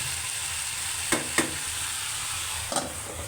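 Potatoes and other vegetables sizzle steadily in a pan close up, with a few brief scrapes and clacks of a spoon stirring them and no talking.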